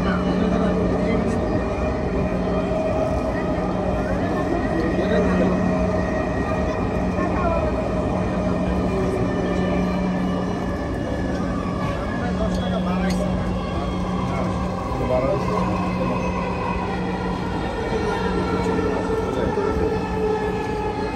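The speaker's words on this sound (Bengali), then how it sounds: "This train is bound for Uttara North." Dhaka metro rail train running between stations, a steady loud rumble of wheels and motors heard from inside the carriage throughout, with a constant low hum and faint voices.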